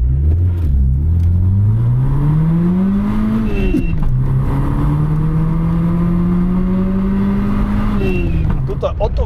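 VW Golf II G60 Rallye engine revving loudly and close, rising and falling in long sweeps with a short gear change between them, ending with a sharp blip.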